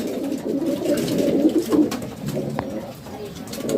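Close, throaty pigeon coos rumble along steadily in a pigeon breeding room, a few birds overlapping in low murmuring calls against light background noise.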